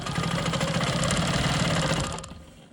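Sewing machine quilting a rolling stone quilt block, a fast, even mechanical stitching whir running loud and close for about two seconds before stopping.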